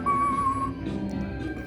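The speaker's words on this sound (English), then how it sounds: "there he goes. He's whistling" Spirit Halloween Monkey Business animatronic whistles a steady, clear tune for under a second, then the melody fades into store background noise.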